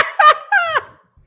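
Ducks being fed give two loud, close, nasal quacks in quick succession, then quiet; no talking.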